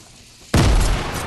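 A single heavy grenade-launcher explosion in Fortnite erupts suddenly after a quiet lead-in, a loud, close boom with deep rumbling low end that sustains into a dense roar.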